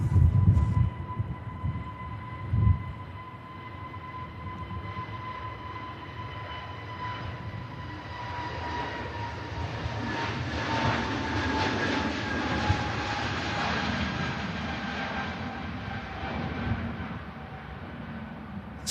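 A Scandinavian airliner takes off from Manchester Airport in blustery wind, its engines a loud, steady roar with a thin whine running through it that swells midway and holds to the end, with no voices.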